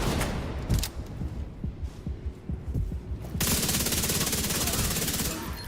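A minigun spinning up and firing in a video game, with scattered shots and thumps first, then a dense, continuous buzzing stream of rapid fire, loud and close.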